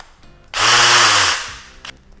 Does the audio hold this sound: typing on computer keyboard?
no